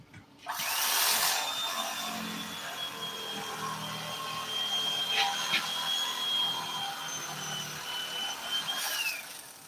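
Power tool grinding down foam, a steady close whine with a high tonal edge running almost the whole clip, starting abruptly after a brief quiet moment and cutting off near the end.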